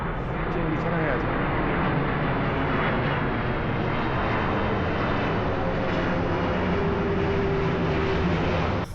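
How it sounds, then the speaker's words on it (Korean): An airplane flies overhead with a loud, continuous engine roar that fills the whole stretch, steady and broad with a faint droning tone underneath. "비행기 촬영해야지."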